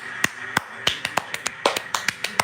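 About a dozen sharp hand claps in an uneven, quick rhythm, close and crisp.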